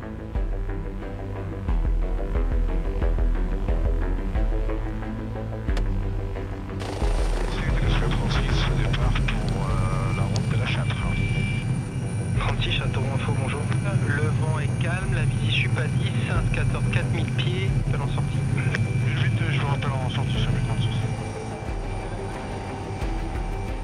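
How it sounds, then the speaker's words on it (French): A helicopter's steady heavy rotor drone and engine whine fill the clip from close by as it flies at over 250 km/h, with a voice speaking over it. "L'hélicoptère file à plus de 250 km/h vers un hameau, au nord du département."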